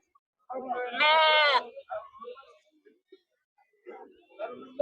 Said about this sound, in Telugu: గొర్రె పిల్లలు.